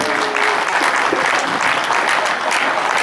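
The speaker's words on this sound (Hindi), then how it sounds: "तालियां बजाइए।" Loud, dense applause from the audience at a Hindi poetry gathering (kavi sammelan) during Chaitra Navratri, continuous and full throughout with no voices rising above it.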